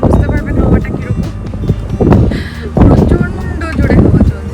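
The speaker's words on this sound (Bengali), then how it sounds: "প্রচন্ড জোরে হাওয়া চলছে।" Strong gusting wind buffets the microphone outdoors on a cloudy day before rain, a loud low rumble swelling and easing in waves while a person talks over it.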